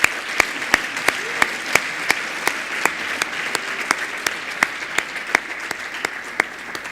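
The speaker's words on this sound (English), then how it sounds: "I'd like to get a big round of applause for the BGI team" Applause from an audience at an awards announcement for the BGI team, a dense, steady wash of clapping with a few sharp louder claps standing out at regular intervals, no voices.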